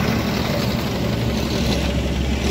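A vibrating baby roller compacts hotmix asphalt at a hospital entrance, giving a steady, loud engine drone with a continuous low rumble from its full vibration.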